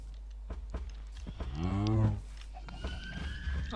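A cow in a Minecraft farm lets out one drawn-out moo, close and fairly clear, with softer game sounds and a quiet voice around it.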